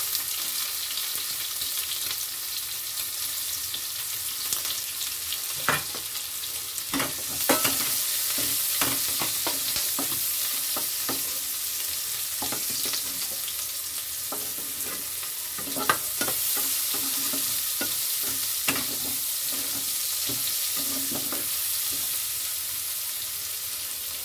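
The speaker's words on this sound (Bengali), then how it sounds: "ওই তেলেই দিয়ে দিচ্ছি কালো জিরে, দিচ্ছি কুচিয়ে রাখা পেঁয়াজ" Nigella seeds and chopped onion frying in hot oil for a Bengali okra-and-prawn dish, a steady close sizzle with scattered sharp clicks and scrapes of stirring throughout.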